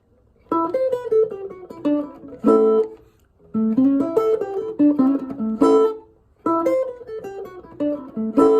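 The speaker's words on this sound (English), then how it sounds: "we're going to go backwards and forwards with those licks" Chicago-style electric blues guitar plays three repeated phrases of quick single-note licks moving back and forth, each closing on a strummed chord, clear and up close with no talking.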